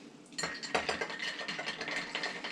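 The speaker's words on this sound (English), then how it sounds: "And now we stir." Hinoki Fantôme Scotch cocktail being stirred in a mixing glass, a busy run of close, bright clinks and scrapes of a bar spoon against glass and ice, steady for a couple of seconds.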